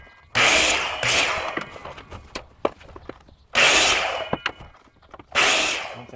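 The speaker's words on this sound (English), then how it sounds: "going to take these to the miter saw and get those cut out." A miter saw cuts wood pieces for a wooden toolbox, with three loud, close whining bursts of roughly a second each. Short pauses between them hold faint knocks and handling clatter.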